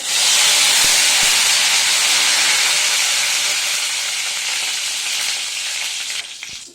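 Mustard seeds and curry leaves sizzle in hot oil, a loud, steady, close frying hiss that fades slightly toward the end.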